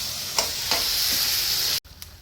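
Soybean curry sizzles in a wok, a constant close hiss with a couple of light stirring knocks, cutting out abruptly before the frying noise returns.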